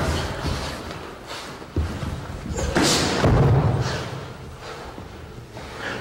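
Bare-knuckle-style sparring thuds from a 17-year-old Mike Tyson working without head gear: a few dull, heavy punch impacts land irregularly amid gym noise, with one sharper hit near the two-second mark and a louder scuffle burst around three seconds.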